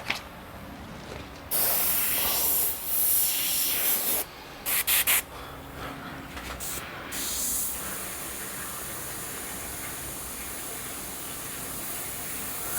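Thin paint sprays from an airbrush while detail is added to a Senna F1 car model, a close airy hiss in several bursts of varying length, with short gaps, then settling into a steady hiss through the end.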